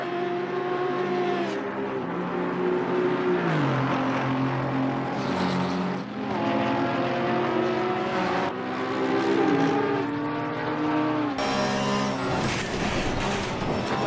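Porsche 911 race cars in a Bathurst sim racing game, engines revving loud and continuous with rising and falling pitch as gears shift, a brighter burst of engine noise near the end, no talk.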